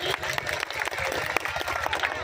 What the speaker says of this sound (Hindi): एक बार जोरदार ताली से इनका स्वागत करिए।